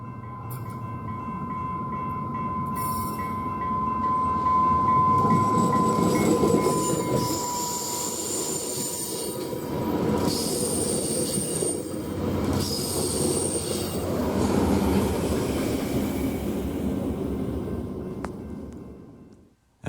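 A passenger train rolls past on the rails near Santa Fe, New Mexico, with a steady rumble, a long high wheel squeal, and metallic screeches rising and falling, close and loud throughout.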